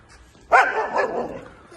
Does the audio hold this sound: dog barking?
yes